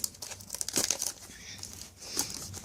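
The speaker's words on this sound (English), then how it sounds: "We're going to break the seal." Plastic seal on a Samsung Galaxy Go phone box crinkles and tears in a few brisk, close bursts, with softer rustling in between.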